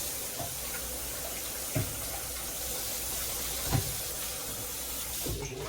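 A cooking pan that was used to boil potatoes is rinsed out under running water, giving a continuous rushing stream with a few soft knocks of the pan against the sink.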